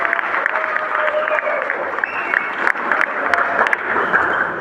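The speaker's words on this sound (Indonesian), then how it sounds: "Sekali lagi beri aplaus untuk sekolah ini." An audience at a high school graduation ceremony at SMK Negeri 2 Manokwari in West Papua gives sustained applause: a steady, moderately close wash of many hands clapping that stays even for several seconds, with a voice faintly under it.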